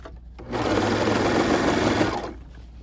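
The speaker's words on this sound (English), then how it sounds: "I'm just going to trim this with the serger" A serger runs in one steady, loud, close whirring burst of about two seconds as it trims a fabric edge while sewing sleep shorts. There is no talking.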